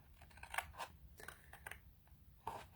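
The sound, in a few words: scissors cutting cardstock along score line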